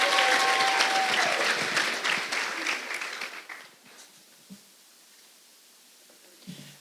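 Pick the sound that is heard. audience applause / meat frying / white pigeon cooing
audience applause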